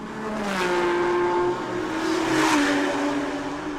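Toyota Supra GT4 race cars run at the Bangsaen Grand Prix street circuit, a steady loud engine drone with shifting pitch as the cars pass, no pause across the stretch.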